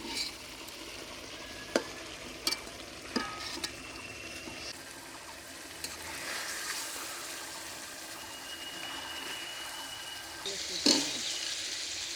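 Fresh pond fish and field-grown stalks sautéing in a pan hiss continuously at a moderate level, punctuated by several sharp clicks and scrapes of a utensil as the food is stirred, with a louder clatter near the end.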